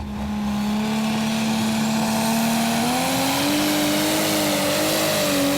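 A Magnum-based Prostock pulling tractor revs hard off the line at a Eurocup tractor pull in Brande, Denmark, its loud, sustained engine note climbing steadily in pitch as it pulls away.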